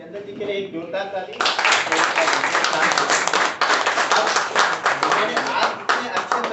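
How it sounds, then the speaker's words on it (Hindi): Loud, dense audience applause for Chandan bursts in after a brief moment of speech and carries on steadily to the end at an indoor open meeting. "चंदन जी के लिए एक जोरदार ताली।"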